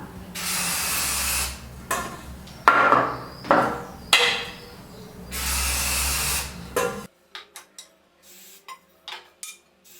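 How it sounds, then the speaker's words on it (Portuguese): Short bursts of cake-pan release spray misted into baking tins for a chocolate cake batter, several hissing jets between clattery knocks of the tins, followed by sharp taps and clicks in a quieter stretch. "E é só um jatinho, bem pouco, não precisa encher de desmoldante também"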